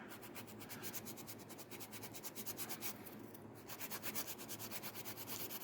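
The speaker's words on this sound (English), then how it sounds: "I always like to do this little motion when I'm filing so that it kind of rounds this side out" Acrylic nail being filed on a clear Christmas nail set, a steady rapid scratchy rasp of repeated back-and-forth strokes, close and continuous with a brief pause midway.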